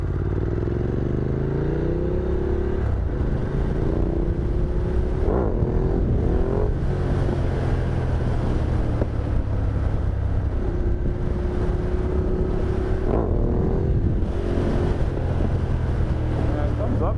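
A Ducati Multistrada motorcycle engine revs steadily in second gear during a wheelie, its pitch rising and falling in smooth sweeps, with strong wind buffeting the microphone throughout.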